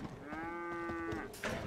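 A cow in a video game gives one long, steady moo, clear and fairly close, followed by a short scuffling noise.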